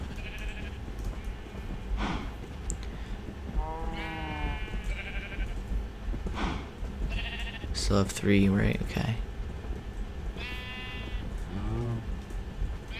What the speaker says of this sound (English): We're getting like 50 sheep.